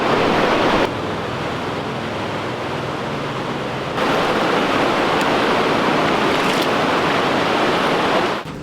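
An underground river rushes through Konglor Cave in a loud, steady broadband wash of flowing water that swells and dips in level, with no voices heard.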